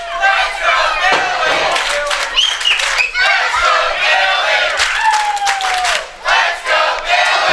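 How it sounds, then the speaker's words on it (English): Fans in a wrestling arena howl and yell in loud, surging waves of crowd noise, with sharp shouts rising above the roar and a commentator's voice talking over it. "these fans are howling at Billy, and Billy does not like those howls"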